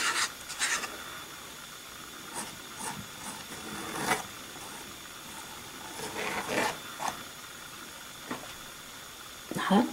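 A tool scrapes acrylic paint across a canvas for a snowy winter landscape with a red barn, making repeated short rasping strokes, near and moderately loud, with faint talking in the background.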